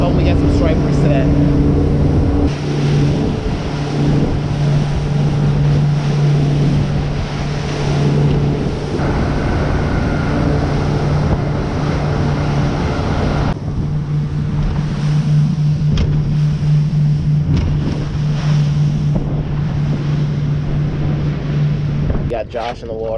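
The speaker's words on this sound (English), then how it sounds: "It's really loud, really windy" Strong wind roars across a microphone on a fishing boat out on open water before a thunderstorm, with a steady engine hum and waves beneath the loud buffeting. Voices talk over it at times.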